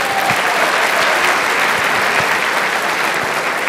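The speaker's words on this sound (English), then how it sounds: "Give my wife a round of applause for that." A loud, dense round of audience applause at an inclusivity and diversity talk, many hands clapping continuously at full strength from start to finish with no voices over it.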